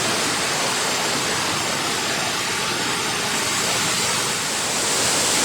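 Otso Otso Falls pours in a steady, loud roar of rushing water, a continuous broadband wash with no breaks and no voices over it.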